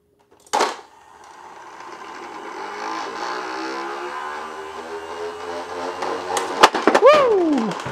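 A DIY launcher converted from a street hockey passer machine switches on with a sharp knock, then its motor hums steadily and builds, followed by loud clacks and a rising, falling whoop near the end.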